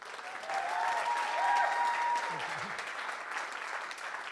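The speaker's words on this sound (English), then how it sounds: "can we have another round of applause for James Collington and John?" Steady audience applause, a dense wash of many hands clapping at moderate distance, sustained throughout with a faint voice briefly underneath.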